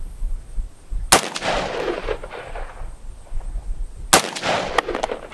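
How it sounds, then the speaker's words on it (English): Two loud, close rifle shots ring out from a Smith & Wesson M&P 15 fitted with a Sharps bolt, spaced about three seconds apart, each with a sharp crack and trailing outdoor echo. "Sharps bolt test with Doc Tac Mom shooting it out of the Smith & Wesson M&P 15."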